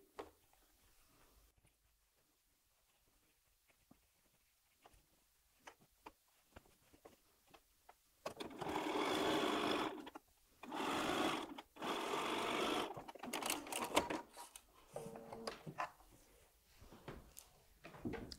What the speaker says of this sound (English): And then I'm going to join the other pieces in exactly the same way.